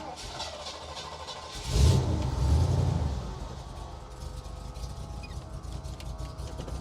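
A 1979 Ford Bronco's 5.8 litre V8 cranks briefly and catches, then settles into a low, steady idle heard close by over light background noise.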